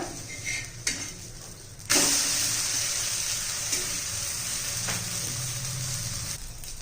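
A wheat flour dosa sizzles steadily on a hot pan after being flipped. There is a soft thump at the turn, then continuous moderate frying hiss with faint clinks of utensils.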